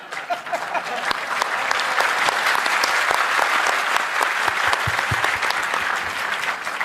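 Sustained audience applause from a large crowd, dense clapping that swells and holds steady for several seconds at a lecture or talk event.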